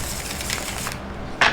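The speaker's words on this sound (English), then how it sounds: "I'm just going to pull some tarot cards" Tarot cards being shuffled give a fast, steady papery riffle and rustle that runs close and even, ending in a brief louder burst of card noise.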